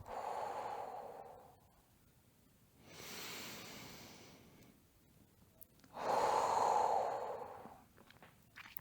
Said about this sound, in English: And deep inhale again to finish